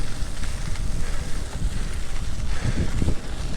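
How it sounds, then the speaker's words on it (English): Steady, loud wind buffeting the microphone while cycling into a cold headwind on a Dutch countryside ride, with a continuous low-frequency rumble and gusty roar throughout and no talking. "It's windy. Got some headwind."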